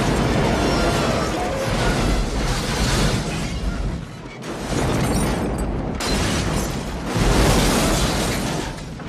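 Big action-movie explosion from the 1990s film Blown Away, a loud sustained roar of blasts and rumbling debris with a brief dip midway before surging again.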